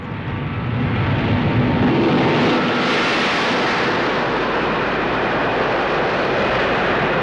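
Concorde supersonic airliner roaring past, a loud broadband jet rumble that builds and holds steady, heard alone without speech.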